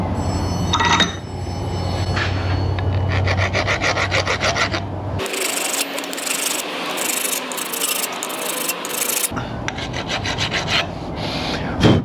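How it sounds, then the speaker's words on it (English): A hand file scrapes back and forth across a metal part in an auto repair shop, in steady, close rasping strokes with a short quieter stretch midway. "cleaned it up a little bit with the file"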